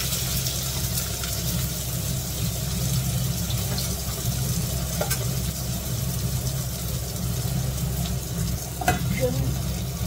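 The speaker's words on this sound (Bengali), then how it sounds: "এবার পেঁয়াজ আদা রসুন এগুলো সব দিয়ে দিচ্ছি তেলের মধ্যে।" Onion, ginger and garlic fry in hot oil for potato curry, making a steady, continuous sizzle close up with faint background hum and occasional small clinks.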